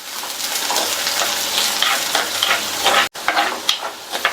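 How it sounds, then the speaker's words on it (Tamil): Garlic and curry leaves are sautéed in a pan for a raw banana pepper fry. A loud, close, continuous sizzle carries soft stirring scrapes, and there is a brief dropout near the end with no talking. "அடுத்து கறிவேப்பிலை எல்லாத்தையும் நல்லா வதக்கி விட்டுக்கலாம்."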